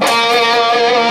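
An electric guitar plays a brief, steady, distorted tone, close and loud throughout, as part of a rock riff lesson with palm-muted notes.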